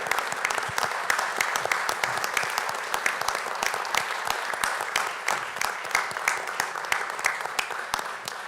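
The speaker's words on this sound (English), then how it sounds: "Applause, please." Sustained applause from a room of people at a Wallingford town council regular meeting, dense steady clapping filling the whole stretch without voices on top.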